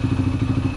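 A Yamaha TTR125 motorcycle engine idles close by after valve adjustment, a steady low throbbing pulse with even rhythm and no valve tapping, loud and alone.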